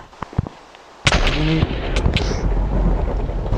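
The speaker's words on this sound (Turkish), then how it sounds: "Paratoneri şimşek çarptı." In Minecraft, lightning strikes a lightning rod with a sudden loud crack, followed by a sustained rumbling roar of thunder after a few faint clicks.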